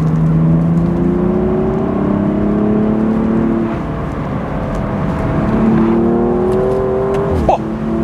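A BMW 235i convertible accelerates hard through a bend, its engine note climbing steadily and loudly, easing briefly midway, then rising again with a sharp click near the end. No voices.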